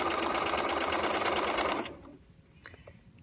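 A sewing machine stitches a fly zipper in a steady, rapid mechanical whir for almost two seconds, then stops abruptly. A few faint handling clicks follow in the quiet.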